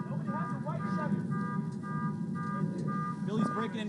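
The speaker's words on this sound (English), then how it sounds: "Apologize to the viewers for that alarm that's going off" During a baseball broadcast, a car alarm sounds in the background with repeating tonal whoops and wails, running under commentators talking throughout.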